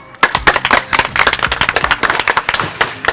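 A small group of association members clapping for a gift handover at a home visit in Touba, loose overlapping handclaps close by, fairly loud and continuous for a few seconds.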